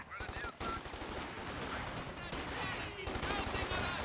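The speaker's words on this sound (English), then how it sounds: "The Thompson from the Lieutenant can do quite some damage" Thompson submachine gun fire in a multiplayer war video game, rapid automatic bursts with brief pauses over a busy battle soundscape, with a commentator talking over it.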